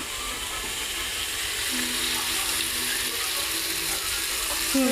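Onions frying in ghee for biryani, a continuous dense sizzle with a crackling, ratchety texture, steady and close throughout.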